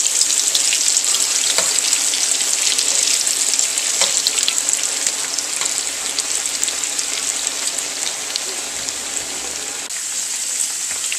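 Hush puppies frying in a fish-fry pot of hot oil, giving a steady, dense sizzle and crackle with faint pops, close and continuous throughout with no talking.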